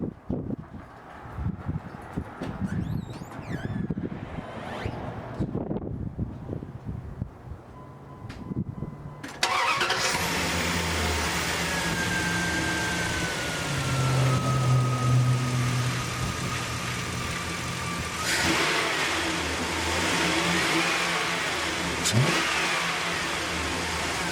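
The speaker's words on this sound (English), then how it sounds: "we're going to go crank up, see if the noise goes away" Speech and shuffling give way to a truck engine cranking and catching, then running steadily with a loud, even rumble that rises briefly; the truck has a loud, noisy pulley.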